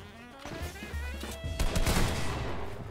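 Video game gunfire crackles in dense bursts of shots, louder volleys toward the end, over constant game background noise without clear speech.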